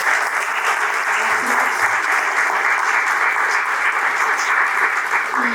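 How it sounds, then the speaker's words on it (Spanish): Steady, dense applause from an audience at a talk with author Agustina Bazterrica, honoring the event organizers; continuous and fairly loud throughout with no voices over it. "les pido un aplauso para ellos"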